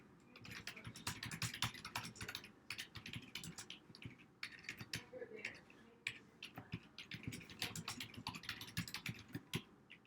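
Rapid typing on a computer keyboard, irregular clusters of close, crisp key clicks continuing steadily with brief pauses, with a voice speaking over part of it.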